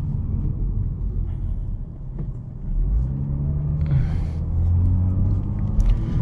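A tuned BMW 440i with 75k miles driving, its engine rumbling steadily from inside the cabin, then the revs climb in a rising pull with a deeper, louder growl.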